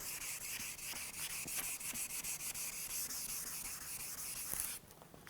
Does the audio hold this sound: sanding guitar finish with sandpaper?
yes